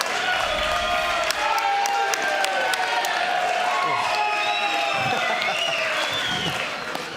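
A bowling crowd at a pro-am event applauds and cheers the groundskeeper, with sustained clapping, whoops and shouts forming a loud, lively roar that tapers slightly near the end.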